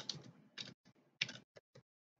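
Short bursts of typing on a computer keyboard during a Windows Active Directory hacking session, with clustered key clicks followed by a few isolated taps and then quiet.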